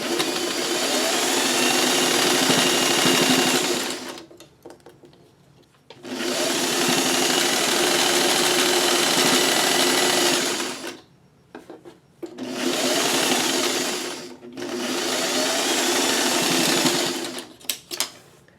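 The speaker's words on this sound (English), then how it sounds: "Now I'm going to go for a straight stitch." A sewing machine runs a straight stitch on quilting crumb blocks, whirring steadily in three long bursts separated by short pauses, close and clear with no talking.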